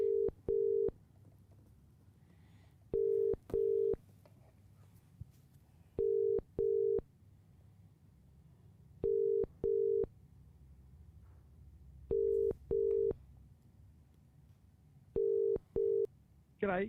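A telephone call ringing out to the caller, with regular double-pulse ring tones repeating roughly every three seconds over a quiet line, six rings before it connects.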